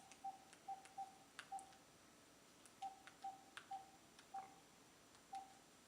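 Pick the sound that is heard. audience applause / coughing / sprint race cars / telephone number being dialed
telephone number being dialed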